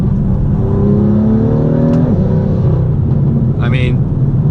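A BMW M2 with the 450 hp Performance Pack and dual-clutch gearbox pulls hard on a test drive. Its engine note climbs steadily, dips at a gear change, then settles into a loud, close cabin rumble.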